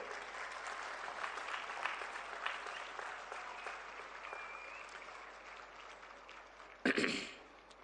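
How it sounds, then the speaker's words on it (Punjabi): Students at a Punjab scholarship distribution event applaud themselves, a dense, fairly faint burst of clapping that swells then fades over several seconds, ending with a brief knock or rustle. "ਤੁਸੀਂ ਆਪਣੇ ਆਪ ਲਈ ਸਾਰੇ ਜਾਣੇ ਆਪ ਹੀ ਤਾੜੀ ਮਾਰ ਲਓ ਇੱਕ ਵਾਰੀ"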